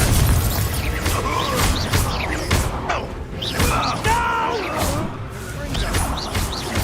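Confringo fire spell explosions in Hogwarts Legacy combat, a series of booming, crackling bursts in a busy duel soundscape, with spoken voices and shouts mixed among the blasts.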